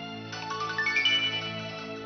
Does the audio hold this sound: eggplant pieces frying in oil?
no